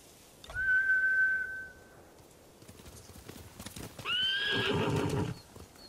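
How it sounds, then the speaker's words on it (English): In the video game Ghost of Tsushima, a horse whinnies loudly, then after a pause gives a second longer, rougher neigh, with soft hoof clatter and rustling in between. "Bastards scared off the horses."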